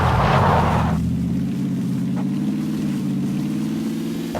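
A motorcycle engine runs at a steady, fairly loud idle-like drone on a hillside route, holding an even low hum for several seconds with a brief brighter burst at the start.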